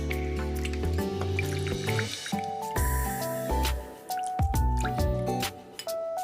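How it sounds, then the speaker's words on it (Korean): Fresh oysters rinsed in water in a kitchen, with close wet sloshing, squishing and dripping as they are swished and handled, steady and fairly loud, with no speech. "두 번 정도 더 헹궈 줄 겁니다"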